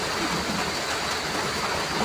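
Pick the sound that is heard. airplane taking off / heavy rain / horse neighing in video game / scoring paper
heavy rain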